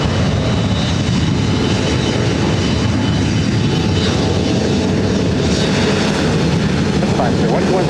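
A jet airliner taking off from runway 24 right at LAX, a loud, steady, broadband engine roar filling the whole stretch without a break, with radio-style talk over it.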